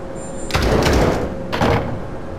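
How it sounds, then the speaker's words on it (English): A door creaking on its hinges in the horror game Nanashi no Geemu: Me, two broad noisy creaks in succession, the first longer and the second shorter, fairly loud over a faint hum. "Oh, it's the door on its hinges."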